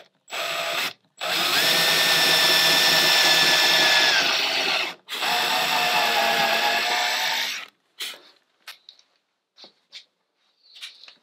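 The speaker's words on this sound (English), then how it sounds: "I'm just going to drill this as a pilot hole, then I'll follow it up with a bigger bit." A power drill boring a pilot hole in wood on a sailboat deck whirs in two long, steady bursts with a short pause between, followed by scattered light clicks and taps.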